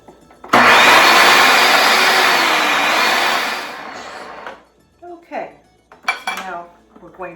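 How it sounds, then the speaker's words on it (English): Food processor pureeing a fava bean falafel mixture: a loud, steady motor whir with a slight pitch wobble runs for about three seconds, then cuts off, followed by clattering of the lid and utensils and brief talking. "Sometimes you need to push it down and then puree a little bit more."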